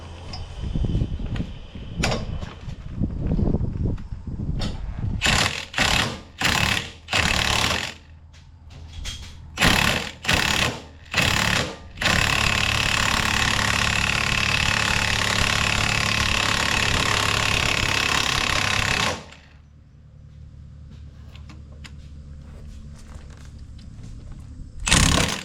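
Minnie Mo 112 tractor engine chugging in irregular bursts as it creeps slowly forward, then settling into a loud continuous roar before cutting back to a quieter idle, close and alone.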